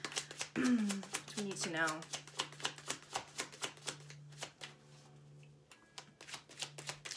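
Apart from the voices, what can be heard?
pulling and shuffling tarot cards from the Vice Versa deck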